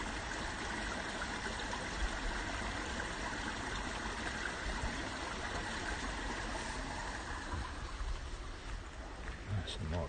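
A stream of running water beside Trentham Lake and its Italian gardens rushes in a steady, loud, unbroken wash for the whole stretch, close by and constant.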